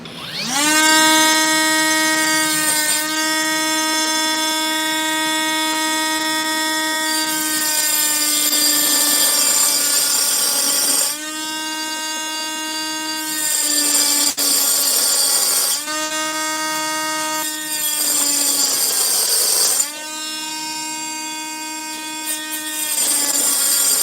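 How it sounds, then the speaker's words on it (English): A mini grinder cuts rock into worry stones, giving a loud, steady, high-pitched motor whine that stops and restarts several times as it bites into the stone. "And we'll use the mini grinder"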